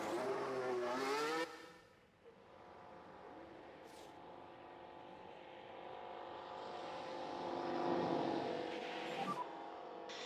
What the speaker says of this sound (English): let's get a car out on the track